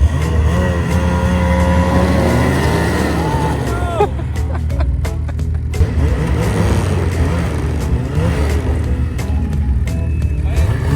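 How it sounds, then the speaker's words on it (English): Ski-Doo Turbo R and Polaris Boost snowmobiles run on an ice drag, engines droning and revving loudly nearby with sharp bursts and pops midway, while people talk over the noise. "We're going drag racing, but we need a nice ice drag to make it happen."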